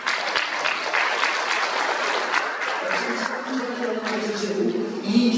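Applause at a Korean peace and unification college event, a dense, steady clapping crowd lasting several seconds, with a voice speaking over it toward the end.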